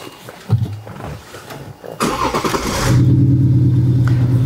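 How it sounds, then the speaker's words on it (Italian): A large BMW diesel car fitted with a sound booster cranks and fires up, then settles into a loud, steady, deep engine rumble right after ignition. "vi faccio sentire l'accensione della macchina e quello che è il sound che ne deriva."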